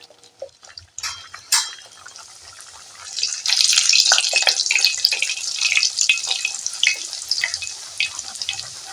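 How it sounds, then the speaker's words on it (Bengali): Semolina parathas deep-frying one by one in hot oil in a kadai, a faint start that swells after a few seconds into a steady, loud bubbling sizzle with small clinks. "কড়ার তেলটা গরম হয়ে গেছে, এবারে আমি এক এক করে ভেজে নেব।"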